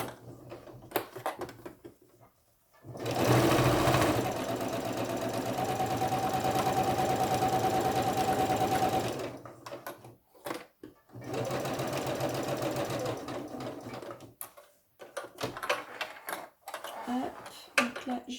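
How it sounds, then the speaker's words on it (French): Sewing machine stitching a fabric face mask, running in a steady loud burst of about six seconds, then shorter runs with pauses, with someone talking in between. "Donc on fait toujours, hein, n'oubliez pas, 1 ou 2 points en arrière pour bien bloquer la couture."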